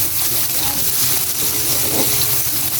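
Garlic and onions sizzle in a hot pan while pork afritada is being cooked: a steady, loud, hissing fry that stays even throughout, with a voice talking faintly under it.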